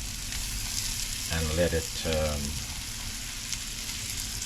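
Shrimp and garlic frying in a pan give off a steady, close sizzle that runs the whole time, while a voice speaks briefly over it near the middle.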